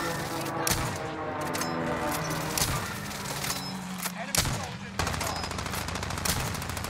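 Rapid rifle fire in a Call of Duty match, dense overlapping gunshots from a ZRG sniper and other weapons cracking continuously over several seconds, loud and close, with a player talking over it.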